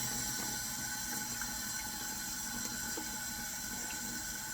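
Warm water runs steadily over a Damascus steel blade being rinsed, a constant soft splashing hiss at low volume with no pauses.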